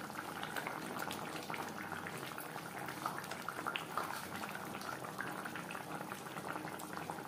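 Tilapia fish curry simmering in gravy in a pot, a steady low bubbling and gentle boil running continuously throughout, soft and close with small irregular pops.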